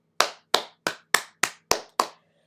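Seven sharp, separate hand claps ring out in a steady rhythm, each crisp and close with a short decay into silence, with no voices heard.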